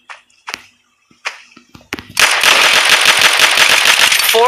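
Rapid burst of Faith Arrow triple shot fire in the Hyper Front shooter game, a loud sustained volley of cracking shots following a few sparse isolated clicks and taps.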